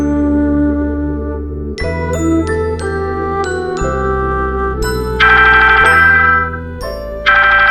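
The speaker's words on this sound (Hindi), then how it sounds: "आयुष का फोन आया है, आओ जल्दी आओ।" A phone ringing with a loud, close melodic ringtone of bright repeating chime notes that shift in pitch over several seconds, with no voices.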